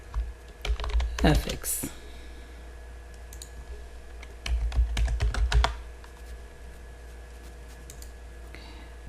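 Computer keyboard typing while renaming a node in Blender, two short bursts of quick close key clicks separated by quiet, with faint talk.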